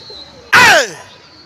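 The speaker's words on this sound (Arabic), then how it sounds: "أهو الحمام أهو." Pigeons at a rooftop loft in Egypt give one brief, loud burst of calling with a descending flutter-like tone, set against quiet background and no talk.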